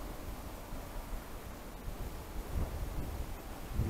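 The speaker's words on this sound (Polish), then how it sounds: "Dość fest wieje, także może to zniechęcać ludzi." Strong winter wind on the Soszów ski slope buffets the microphone with a steady rushing roar and low rumbling gusts, no voices present.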